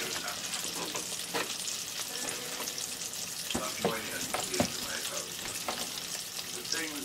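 Pieces dropped into hot oil and deep-frying for a homemade chicken fillet, a dense continuous bubbling sizzle with occasional clicks and knocks from a spoon or pan, close and steady.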